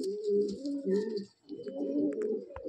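A breeding pair of Madrasi pigeons coos in close, loud rolling phrases, pausing briefly midway before the throaty cooing resumes.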